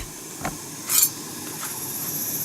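A few soft knife chops through tomatoes on a cutting board, three brief irregular strokes with a faint scraping edge over a quiet background.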